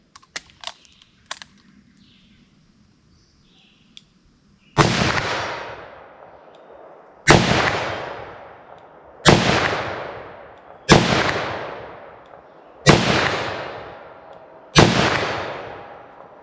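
Six loud handgun shots, .45 ACP and .357 Magnum rounds fired at steel targets, ring out alone at roughly two-second intervals, each with a sharp crack and long decaying echo, after a few faint clicks and handling noises.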